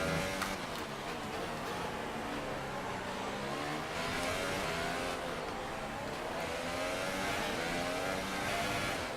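F1 race car engine in the F1 2018 game, a loud continuous high-revving whine with shifting pitch as the car oversteers and the throttle comes off, steady and close with no talk.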